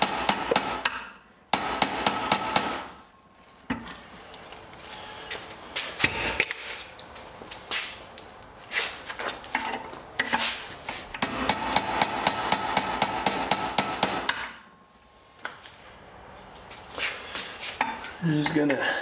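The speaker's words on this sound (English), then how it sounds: "I'm gonna take my regular old hammer" Rapid bursts of sharp metallic strikes from a regular hammer driving a metal punch while making blacksmithing tongs, ringing clinks in quick rhythmic runs separated by short pauses, close and loud.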